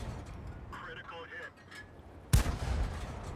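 A tank cannon fires in a tank video game, a single sharp loud blast with a rumbling tail, following a stretch of quieter engine and battle ambience.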